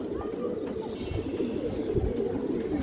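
Domestic pigeons coo in repeated low, throaty rolls at a pigeon sale, close by and continuous, with a faint bird chirp above the cooing.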